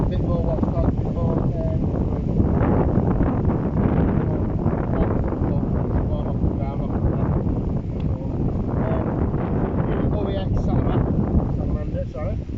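Gusty wind buffets the microphone at an outdoor camp in the Peak District, a loud continuous rumbling roar with shifting surges, while someone talks over it.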